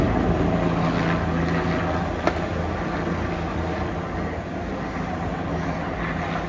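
A helicopter flies overhead during a curfew protest clash, producing a steady, loud low rotor drone with engine roar throughout, plus one brief sharp bang near the middle.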